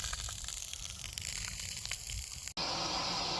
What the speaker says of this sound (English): Just flushing out the water heater is not something I ever thought to do either